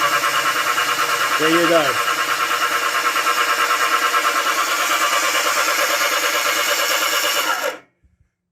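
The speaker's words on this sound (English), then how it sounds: "You just want to get it turned over to make it easier as possible on the starter motor" A Kawasaki Z1 engine with its spark plugs out cranks on the starter motor in a fast, even churning rhythm for several seconds before cutting off abruptly, with a brief spoken remark over it.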